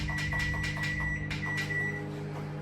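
A microwave oven heating a sponge in a little water, giving a steady close hum with a constant whine and faint periodic ticking, and no talk.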